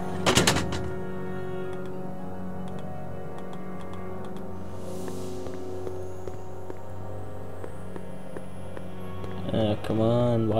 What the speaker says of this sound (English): surely, banging on that window would make a lot of sound